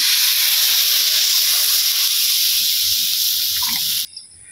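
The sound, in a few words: broth poured into hot curry pan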